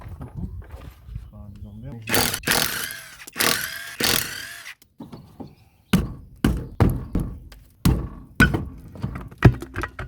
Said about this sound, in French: ce qu'on va faire là, ça va être desserrer les roues